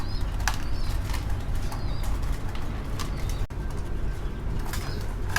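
White-faced fancy pigeons in a farm cage flap their wings in repeated bursts at close range over a steady background hum, with faint coos mixed in.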